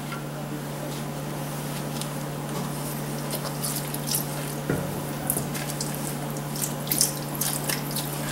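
Shrimp broth pours in a little at a time into a pot of sauce piquante, with soft splashes and trickles over a steady low hum, near and modest in level.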